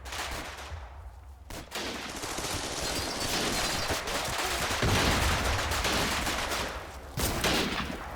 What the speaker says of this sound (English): they got the flak, but they're getting return fire